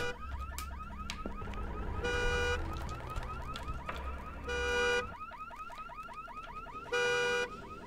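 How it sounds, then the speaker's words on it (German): A car alarm blares in the horror video game Visage, its looping electronic whoops cycling steadily, interrupted by repeated harsh horn-like blasts, loud and close with no talk over it. "Der Alarm."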